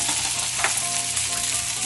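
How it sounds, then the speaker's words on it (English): Onions sautéing in a pan for a kale, squash and onion casserole, a steady close sizzle and crackle of frying that hisses continuously throughout, with no talking. "we're gonna go ahead and start sauteing our onions"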